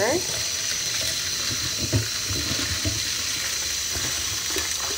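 Steady splashing and trickling warm water with soft swishing as lentils are stirred and rinsed, continuous and close, with faint clinks.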